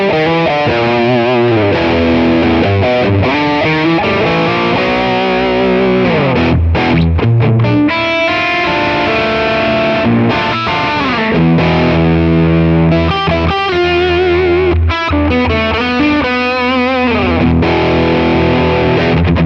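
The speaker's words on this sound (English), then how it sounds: "Really nice, big, thick overdrive." Electric guitar run through an Amalgam Rat overdrive pedal capture, heard alone as a thick, saturated distorted tone with sustained chords and riffs, loud and continuous.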